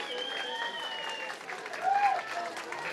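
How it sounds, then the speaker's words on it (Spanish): Devotees at a festival clap along, a soft, steady patter of many hands set back in the room beneath a sustained tonal sound, with a brief bright squeal partway through. "Fuerte las palmas también, por favor,"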